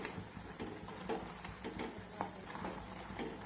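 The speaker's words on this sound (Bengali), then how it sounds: "এখন আবার একটু টমেটোগুলোকে নাড়াচাড়া করে দেবো।" Ripe tomatoes softening in a pan are stirred and mashed while cooking down for a preserved tomato sauce. Soft, repeated scraping and stirring noises sit over a faint, steady sizzle at moderate, close range, with no talking.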